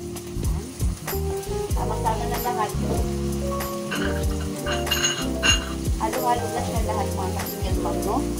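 Tomatoes and vegetables are sautéed in a pan for a Filipino eggplant omelette with sardines, sizzling steadily while utensils clink and scrape against the pan.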